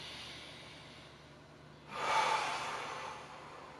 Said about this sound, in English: Big inhale.